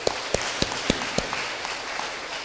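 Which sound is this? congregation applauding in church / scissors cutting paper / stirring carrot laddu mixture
congregation applauding in church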